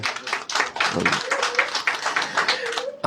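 An audience at a political party branch gathering applauds, a dense burst of many hands clapping steadily for about three seconds, fairly close, with voices mixed in.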